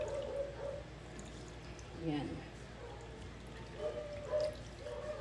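Vinegar is poured over milkfish in a kitchen, a faint, brief splashing pour heard under a woman's quiet speech.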